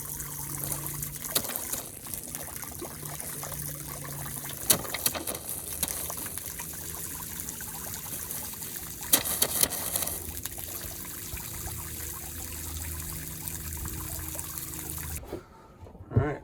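Fresh water flows steadily through a boat's plumbing line and out a spray nozzle, a continuous trickling gush with a few sharp bumps along the way, cutting off abruptly near the end.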